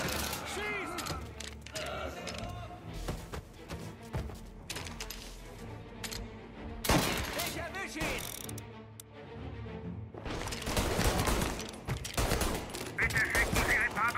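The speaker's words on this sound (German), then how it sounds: "Es wurden vermehrt Schüsse gemeldet." Bursts of rapid gunfire crackle through a busy soundscape in the video game Mafia: Definitive Edition, with sharper volleys near the middle and end, mixed with voices and effects.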